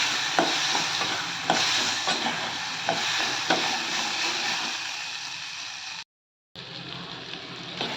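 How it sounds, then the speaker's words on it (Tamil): Karonda berries and curry leaves being stirred on a low flame, with a continuous crackling sizzle and regular scraping spoon strokes every second or so. The sound cuts to silence briefly near the end, then returns. "அடுப்பை சிம்மில் வச்சு நல்லா கிளறி கொடுத்துக்கலாம்"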